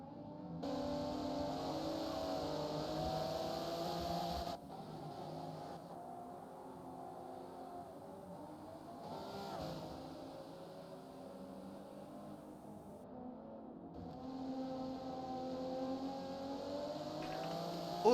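Super touring race cars in a racing game howl along in a sustained, droning engine note that climbs and falls through gear changes, with a moderately loud, continuous whine and a brief lull midway.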